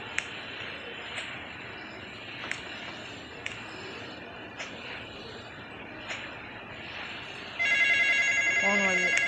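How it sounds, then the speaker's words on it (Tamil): A phone rings inside a horror video game, a repeated electronic trill starting near the end over quiet game ambience dotted with soft clicks, with a voice speaking earlier. "ஃபோன் வருது."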